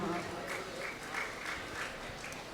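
An audience at a national journalists' seminar and peace gathering gives a short round of soft, scattered applause, the rhythmic clapping heard faintly at a distance.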